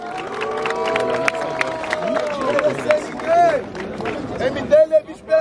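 Crowd noise at a rap battle at Batalha do Coliseu: sustained cheering, shouting and whistles from a large audience throughout, with bursts of louder whoops near the end and voices calling out over the din.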